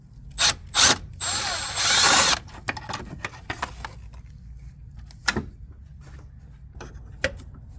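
Ratchet clicking in short bursts on a tight drain plug of a BMW M5 E60, followed by a longer rasping run, then sparse isolated clicks and knocks close by.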